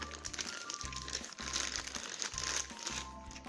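Packaging of an 8-pin wall switch socket crinkles and crumples steadily as it is cut open, close and fairly quiet, with a low rhythmic thumping underneath throughout.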